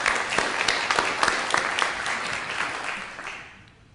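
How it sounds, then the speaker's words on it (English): A workshop audience at the TAM 2013 skeptics' conference applauds, dense clapping that holds steady and loud before tapering off toward the end, with no voices over it. "he deserves a round of applause for that"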